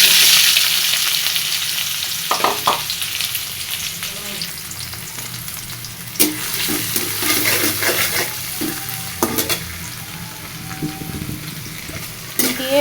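Tomatoes frying in oil with cumin seeds, a loud close sizzle that runs throughout, with spoon clatters and stirring scrapes scattered across the clip.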